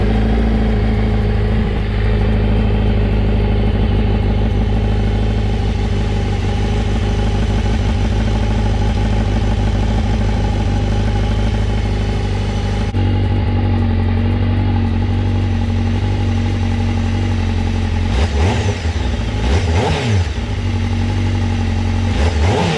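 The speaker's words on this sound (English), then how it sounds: "It is a titanium exhaust, but it's just not loud enough." A Honda CBR1000RR-R Fireblade SP with a titanium exhaust runs loud and steady close by, its engine droning throughout, with a couple of sharper revs rising near the end.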